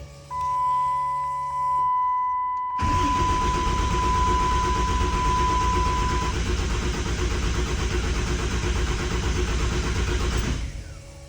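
A car engine cranks steadily on its electric starter while the owner tries to build oil pressure after cleaning the grounds; a loud, continuous churning starts suddenly a few seconds in, runs for about eight seconds and then cuts off.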